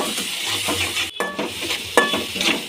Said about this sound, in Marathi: आता याला आपण परत फिरवून घेऊ।